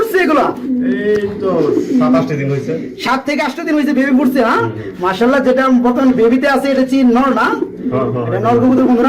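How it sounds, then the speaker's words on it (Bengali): Low, soft coos from large fancy pigeons sound a few times beneath near, continuous talking. "দেখতে পাচ্ছি এখানে রয়েছে আরেক পেয়ার কবুতর"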